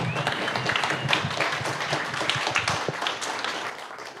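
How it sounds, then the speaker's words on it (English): An audience at the HiveFest conference in Rosarito, Mexico claps in a dense burst of applause that holds steady for several seconds, with a faint voice in the mix. "So give him extra applause"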